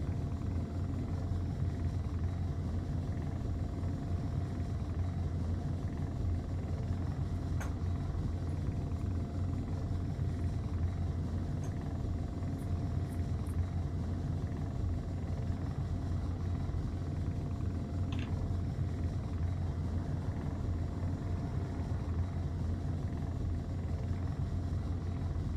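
A vector thrust ship's engines in Space Engineers hum as a steady, low rumbling drone with a faint tonal whine, unchanging and alone throughout, with a few brief faint clicks.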